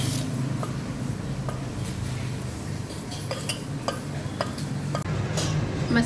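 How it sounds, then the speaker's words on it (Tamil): Sweet corn kernels being stirred with cornflour and maida in a bowl, a steady scraping with light periodic clinks of a spoon against the bowl, close and continuous. "இதை நல்லா நம்ம கலந்து விட்டுக்கலாம்."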